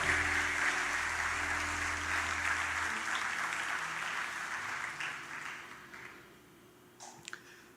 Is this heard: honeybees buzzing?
no